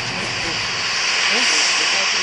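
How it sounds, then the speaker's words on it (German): Aircraft engine roar from an airplane landing near a seismological station in Antarctica, a steady loud broadband hiss and drone throughout, with faint voices underneath. "Kurze Zeit später landet ein Flugzeug in der Nähe der seismologischen Station."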